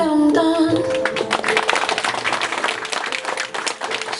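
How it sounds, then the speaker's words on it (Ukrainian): Wedding guests at an outdoor ceremony in Lviv applaud the bride and her father, a dense burst of clapping that swells in over fading music and carries on steadily. "Зі щирими оваціями привітайте красуню доню і найщасливішого батька в усьому світі."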